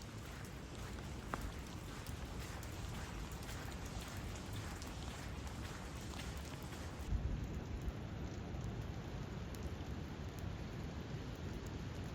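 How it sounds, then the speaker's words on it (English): Steady rain pours down outdoors near a camp during a long walk back to a parked van, a dense continuous hiss of drops on surfaces that fills the whole stretch without pause. "The rain has picked up"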